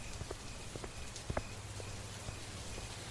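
Faint, steady patter of raindrops with scattered sharper drips and taps, no voices.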